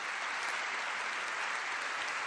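More than 600 people in an audience in Palma de Mallorca clap for Muhammad Yunus, a dense, even, sustained applause with no breaks or voices standing out.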